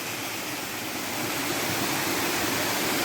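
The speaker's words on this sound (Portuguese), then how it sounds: "uma cachoeira belíssima no meio" A waterfall in the middle of a wide stretch of forest sends out a steady, full rushing roar. It is close and constant throughout, with no voices over it.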